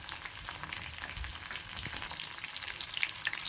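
Garlic, cumin and green chillies fry in a pan, giving a steady close sizzle with a few brief spatters and no one talking.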